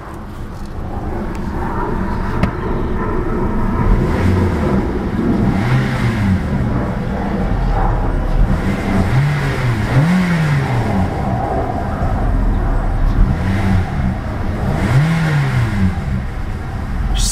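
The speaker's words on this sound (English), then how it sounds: "let's see about a couple of revs of that little inline 4-cylinder engine" A 2012 Scion iQ's small inline four-cylinder engine idles, then revs up sharply several times, each rev rising and falling back, close and loud.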